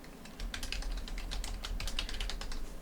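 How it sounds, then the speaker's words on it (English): A name being typed on a computer keyboard, a quick run of light, close key clicks at an uneven pace for a few seconds, no voices. "So I'm just going to type in my name"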